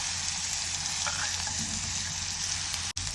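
Onion frying in oil, a continuous bright sizzle with a low background hum and a single sharp click near the end.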